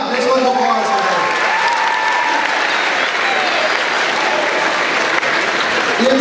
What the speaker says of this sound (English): Next one, applause for her.